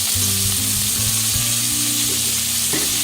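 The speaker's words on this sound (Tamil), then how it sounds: "இப்போ நல்லா செவந்து வந்ததுக்கு அப்புறமா கொண்டக்கடலையை இதோடு சேர்த்துடலாம்" Chickpeas sauté loudly in hot oil with chili and betel leaf for a festival offering dish, giving a dense, continuous sizzle close up with occasional stirring scrapes and a steady low hum underneath.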